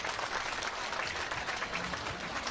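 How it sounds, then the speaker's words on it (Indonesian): Audience applause at a formal Islamic gathering in Indonesia, a dense, sustained clapping from a large crowd that stays loud and even, with no speech over it. "Tepuk tangan untuk beliau, Bapak Kiai Haji Said Akil Sirot."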